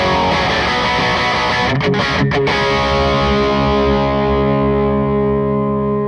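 Electric guitar on the bridge pickup with the gain pushed higher, a loud distorted chord strummed and left to ring out, sustaining and slowly decaying over several seconds.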